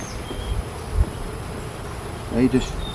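Bees buzz faintly in a low, steady hum around a hive during an inspection, with a couple of brief nearby rustles and knocks.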